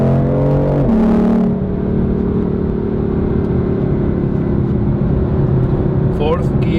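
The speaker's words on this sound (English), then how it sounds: "Downshift and you can hear the car more" A BMW M4's engine rumbles loud and steady as a downshift lifts the revs, with a brief rise early on and a short whine near the end, under continuous driving noise.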